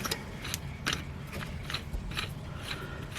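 A brake caliper piston on a Hyundai Excel is wound back in with a tool, giving a rhythmic series of close metallic clicks and ratcheting turns over a low rumble.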